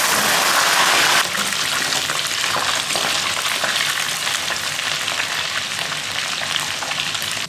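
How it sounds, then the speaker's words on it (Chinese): Shrimp deep-frying in hot oil for a spicy dry pot: a loud, steady, hissing sizzle that bursts in at full strength, then eases slightly and holds at a dense, even crackle throughout, with no talking. "虾炸一下。"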